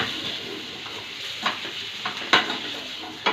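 Vegetables for white sauce pasta stirred in a pan over a low gas flame, a soft steady sizzle broken by a few sharp spoon scrapes and taps against the pan, close and fairly quiet.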